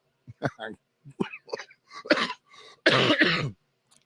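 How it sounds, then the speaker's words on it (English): A string of short, sharp coughs and throat-clearing bursts, close and fairly loud, ending in a longer rough hacking fit. "I got a little cough today"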